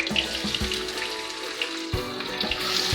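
Chopped onion hitting a pan with one tablespoon of oil, frying with a steady hiss and sizzle punctuated by several sharp crackles and pops, close by and without talking.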